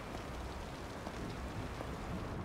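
Steady rain falling in The Evil Within, a dense, even hiss of drops spattering on surfaces that continues without a break, close and enveloping, with no voices over it.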